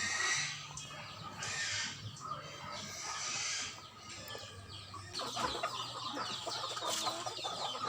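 Chickens clucking and calling around a farmyard, a steady mix of nearby and distant birds with continuous background noise.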